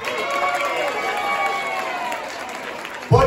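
An audience at a Dominican Heritage Month celebration breakfast applauds an assemblyman. The clapping is a steady, crowd-wide roar mixed with cheers and voices, ending in a sudden loud thump or burst near the close.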